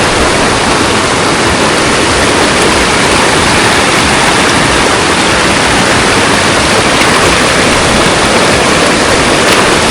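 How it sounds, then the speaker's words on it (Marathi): Loud, steady roar of a waterfall at the Ganpati Gadad caves, a dense unbroken rush of falling water filling the whole scene with no pauses. "हा वरून जो धबधबा येतोय"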